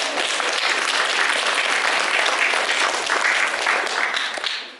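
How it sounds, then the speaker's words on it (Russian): Sustained applause from a theatre audience after a performance of Antigone, dense, even clapping holding steady throughout before tapering off at the very end. "Если да, то похлопайте, пожалуйста"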